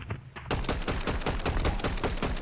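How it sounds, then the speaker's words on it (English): Hollow assault rifle in Fortnite fires a sustained automatic burst, loud, close shots in a steady rapid rhythm after a brief quiet start, with no voices over it. "Now I'm gonna have the hollow assault rifle."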